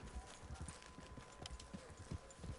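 Horse hooves clip-clopping at a steady walking rhythm in the video game Red Dead Redemption 2, faint but distinct repeated thuds under a low background hum.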